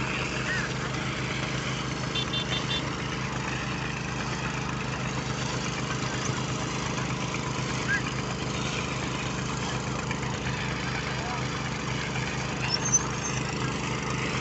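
A petrol-powered irrigation water pump driven by a motorcycle engine runs at a steady, unbroken drone from start to finish, close and fairly loud, with no pauses or changes in speed.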